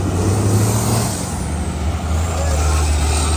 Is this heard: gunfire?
no